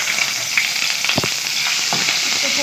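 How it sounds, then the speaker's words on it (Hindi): Garlic and ginger frying in oil in a wok, a close, steady sizzle with occasional scraping stirs of a spoon, loud and continuous with no talking. "तो लहसुन अदरक थोड़ा सा फ्राई हो गया"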